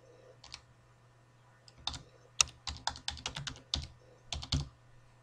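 Keys clack on a computer keyboard as text is typed into a Word form field, a few scattered taps followed by a quick run of crisp, close clicks, with no talking.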